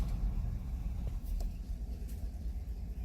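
A 2015 Chevy Silverado pickup pulls away from a stop at the end of a driveway, its engine a steady low rumble that holds close and fairly even throughout, with no talk.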